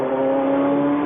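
A Nissan race car engine during qualifying at the 1999 Le Mans 24 Hours, a loud, steady, close drone held at a constant pitch without a break, with no speech over it.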